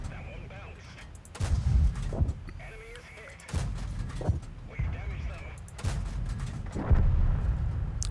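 A tank cannon in World of Tanks fires repeatedly at a VK, with several heavy booming shots spaced a second or two apart over low engine rumble. A voice talks faintly under the shots.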